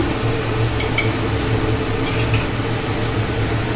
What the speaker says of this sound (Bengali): খুন্তি দিয়ে মারলেই বোঝা যাচ্ছে একদম শক্ত